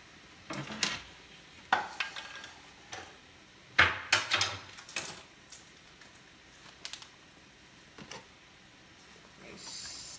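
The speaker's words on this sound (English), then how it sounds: "Stir it all together." Meatless stew peas being stirred in a pot, with a spoon scraping and clinking against the pot in scattered bursts; the sounds are moderately close and set apart by quiet gaps, and no one speaks.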